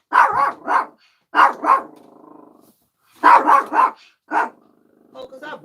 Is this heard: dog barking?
yes